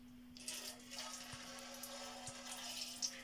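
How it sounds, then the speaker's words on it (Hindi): Vinegar being poured into food while cooking an iftar meal, a steady close splashing stream of liquid with a faint background hum. "और आप इसमें डालेंगे विनेगर"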